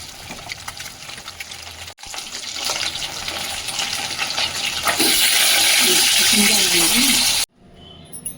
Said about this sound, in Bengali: মাছের তেল ভাজলাম।